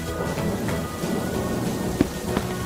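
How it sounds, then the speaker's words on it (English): Steady rain falls with a low thunder rumble underneath, a dense even hiss with a few sharper drop taps near the end, and no voices. "It's raining, and Peppa spots her rainbow umbrella."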